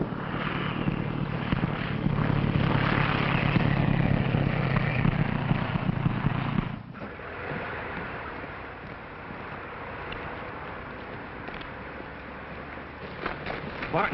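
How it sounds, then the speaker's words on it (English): The motor of a launch boat, from a 1940 film, runs as a loud, steady droning engine. It cuts off sharply partway through and leaves a quieter rumble with faint voices. "Start the motor."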